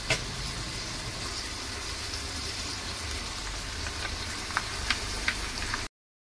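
Masala paste sizzling and frying in a pan, a steady broadband hiss with a few sharp crackles near the end before it cuts to silence.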